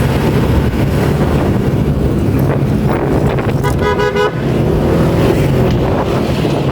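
An old, run-down bus moves along a road in Cavite with a loud, steady rumble and heavy wind buffeting, and a short horn toot near the middle.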